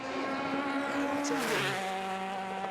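A World Series by Nissan single-seater race car screams past on the Kirkistown circuit, its high engine note sweeping down in pitch as it passes, with steady engine drone throughout and no talk.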